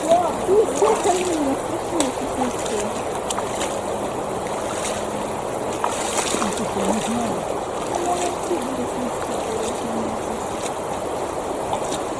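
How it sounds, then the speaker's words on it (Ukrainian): River water being stirred and splashed by hand, sloshing and splattering nearby with irregular splashes over a steady flowing background, a voice talking faintly at the start. "я поколотила воду"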